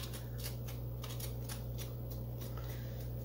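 A toothed grapefruit spoon rasps repeatedly against the hard flesh of an acorn squash, quick close scraping strokes in an uneven rhythm over a steady low background hum.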